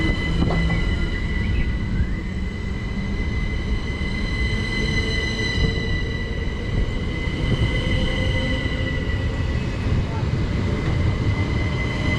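A Southeastern class 375 electric train sits at a Kent station platform, giving a steady mechanical hum with faint high whines and rail rumble throughout, with no clear talk.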